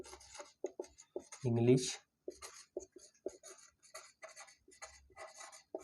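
Someone writes out the English alphabet, producing short, quick scratching strokes in an uneven rhythm, with someone speaking between and over the strokes.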